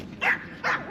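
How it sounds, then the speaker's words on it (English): Two loud, close barks from a dog on an Edinburgh street in autumn, evenly spaced with a short pause between them. "it's a dog."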